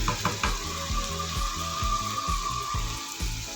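Tomato paste from two medium tomatoes hits hot oil with frying garlic ginger paste for Pakistani mash daal, giving a steady close sizzle with a few stirring scrapes and knocks.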